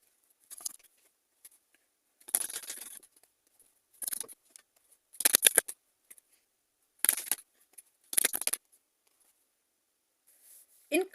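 Tarot cards being handled and shuffled in short separate bursts of soft riffling and slapping, each a second or less, with quiet pauses between and a brief voice at the very end.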